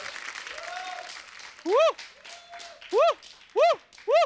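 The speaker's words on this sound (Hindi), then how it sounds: "जोरदार तालियां सारा के लिए" On a comedy talk show set, the studio audience gives a burst of applause that soon thins out, while loud, rising whoops and shouted cheers ring out repeatedly over the fading clapping.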